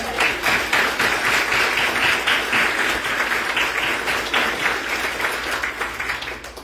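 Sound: audience applause in church

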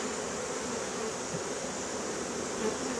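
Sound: honey bees buzzing around a hive super

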